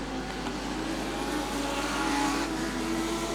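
Legend race cars battle for fourth place at Archerfield Speedway, with Ricky Lober's number 94 chasing the Jones car; engines drone and rev steadily at close range, with no voices.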